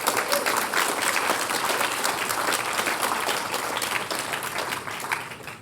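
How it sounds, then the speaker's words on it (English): Sustained audience applause at a company event, dense clapping from a crowd holding steady throughout, with no talking. "So can we get a round of applause?"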